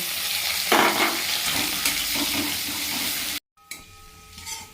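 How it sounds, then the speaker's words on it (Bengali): Grated ginger and chopped garlic fry in mustard oil with a steady close sizzle, briefly cut out near the end and followed by some clinking. "এরপরে এতে গ্রেট করা আদা আর রসুন কুচি দিয়ে এটা একটু ভেজে নেব।"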